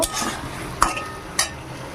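A metal lid lifts off a pot of simmering masala, giving two sharp clinks against the rim over a low, steady background of cooking hiss.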